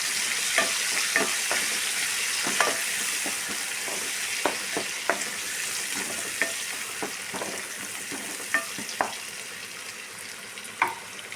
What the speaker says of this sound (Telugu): దీంట్లో కొంచెం కరివేపాకు వేసేసుకుని ఇప్పుడు గ్రైండ్ చేసిన టమాటా పేస్ట్ వేసేసుకొని కలిపేసుకున్నాం